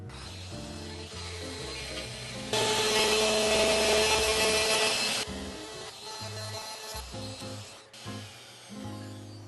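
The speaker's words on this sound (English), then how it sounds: "I'm going to use a plunge router to recess about 1 inch for the mortise." Plunge router cutting a roughly one-inch-deep mortise recess in a wooden workbench, a loud high whine of about three seconds set among quieter mechanical clatter and handling.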